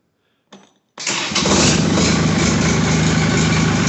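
A diesel snowblower tractor on a winter-storm day: a short burst of starter noise, a pause, then it cranks and catches into a loud, steady, close-up running roar with no talking.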